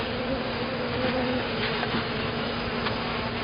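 Honeybees at an open hive during an inspection give off a steady, close, dense buzzing drone that holds throughout with no talk.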